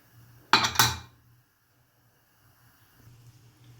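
A lid is fitted onto a metal pressure cooker in a home kitchen while cooking drumstick sambar. Two quick metallic clanks sound close together, then the scene goes quiet except for a faint low hum.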